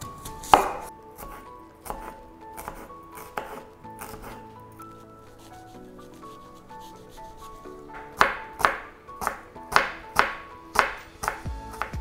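A knife chops onion on a board in a home kitchen, with crisp, evenly spaced strikes that come in quick bursts, pause briefly for scraping and rubbing, then resume in a steady rhythm, close and clear with no talk.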